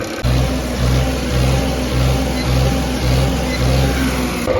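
A tractor engine runs loud and close, revving in a steady pulsing rhythm of about one surge per second.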